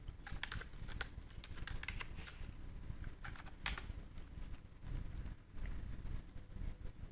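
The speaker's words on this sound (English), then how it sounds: "type in your username and password" Quiet, rapid keystrokes on a computer keyboard as a username and password are typed, irregular bursts of clicks with brief pauses, faint and close.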